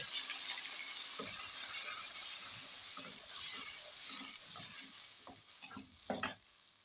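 A ground ginger, garlic and onion paste frying in a karahi for Afghani potato karahi, a soft continuous hiss with scattered scraping strokes of a spoon stirring, growing busier toward the end.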